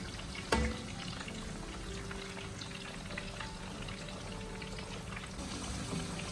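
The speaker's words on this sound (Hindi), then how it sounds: "कद्दू हमारे फ्राई हो गए, इसको कम से कम 7-8 मिनट लगे" Uncoated pumpkin pieces, with no salt or pepper on them, frying in hot oil in a pan for a South Indian vegetable biryani. A steady, dense sizzle runs throughout, with one brief louder clatter near the start and no talk.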